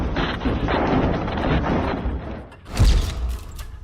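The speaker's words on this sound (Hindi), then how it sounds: "अलेप्पो पर पुतिन ने लगातार बम बरसाए" Bombing of Aleppo by fighter jets comes through as dense rumbling blasts and crackling impacts, followed by one heavy deep boom near the end.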